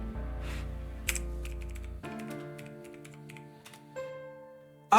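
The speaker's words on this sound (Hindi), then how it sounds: "अब यहां पे लेजर्स के नाम टाइप करें।" Keystrokes typing ledger names on a computer keyboard in accounting software, a steady run of light clicks over a sustained tonal background with a few louder taps.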